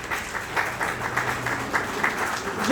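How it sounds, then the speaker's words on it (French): Audience applause at a corporate event in Morocco honouring the Saïk Motor team and MG Motors partners, a steady, moderate wash of clapping throughout with faint voices under it. "Merci de les applaudir."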